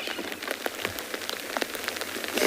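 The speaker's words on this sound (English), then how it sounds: "As you can see, the rain" Rain falls steadily in the South African bush near a waterhole, with scattered close drops tapping on surfaces over a soft continuous hiss, alone without talk.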